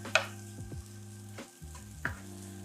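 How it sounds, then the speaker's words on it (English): Onions and mushrooms frying in a pan for a shrimp stir fry, a spoon stirring them in a few distinct scraping strokes over a soft steady sizzle, close and fairly quiet. "Now I'm just gonna give this a stir."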